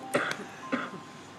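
Two short coughs, a moment apart, from a person close by indoors. Each is a brief, rough burst of air. No one speaks.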